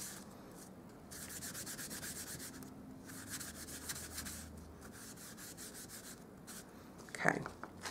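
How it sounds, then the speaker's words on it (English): Embossing buddy powder pouch rubbed over card stock before clear embossing a stamped image for a Valentine's card, giving a soft, steady rustling scrape that runs nearly the whole time, with a sharper brush near the end. "I'm going to rub embossing buddy over the top of that"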